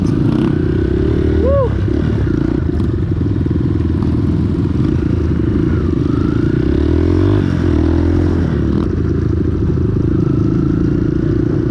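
Motocross motorcycles head off on a forest trip with a steady, loud engine drone and clatter throughout, a brief rising rev near the start, under constant riding noise.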